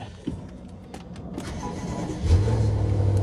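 The engine of a repossessed car, apparently a BMW, cranks briefly and catches, then settles into a steady, close idle hum.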